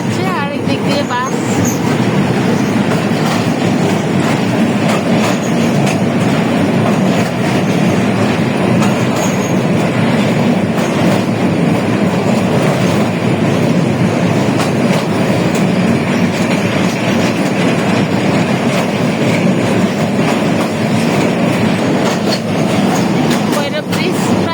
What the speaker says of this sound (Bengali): আমাদের ট্রেন কিন্তু এখন ভৈরব ব্রিজের উপরে আছে।